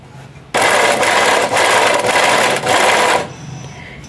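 Sewing machine stitching dori piping, a loud close whir that starts abruptly and runs for under three seconds with two short dips in speed before stopping.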